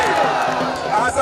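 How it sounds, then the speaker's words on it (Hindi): Audience at a women's wrestling dangal clapping amid crowd noise, a brief burst of applause and murmuring voices mixed together at close range. "महिला साथी सब अपने सब जोर से ताली मारियो"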